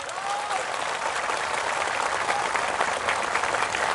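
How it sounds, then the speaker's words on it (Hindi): Audience at a Tipra rally in Tripura breaks into steady applause, a dense, continuous patter of many hands clapping for several seconds at moderate distance, alone without talk. "थोड़ा जोर से ताली मारो तो तिपरासा लोग।"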